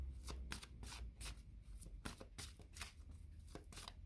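Oracle cards shuffled by hand before a card reading, a quick run of crisp riffling flicks and soft slaps repeating about every third of a second, close and fairly quiet, with no voice.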